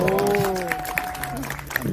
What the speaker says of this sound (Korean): 정무위를 위해서 박수 크게 한번 보내주십시오.